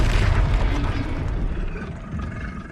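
A Confringo blasting spell explodes in Hogwarts Legacy with a loud, close boom that rolls on as a long, slowly fading rumble.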